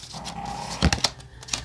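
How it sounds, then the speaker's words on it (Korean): A puppy snoring nearby: a soft, drawn-out whining tone followed by a few short, breathy snorts, fairly quiet and with no talk over it. "강아지 코 고는 소리 죄송해요."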